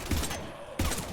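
Two short bursts of gunfire fired at husks in the shooter game Mass Effect 3, with a pause between them and steady game ambience underneath.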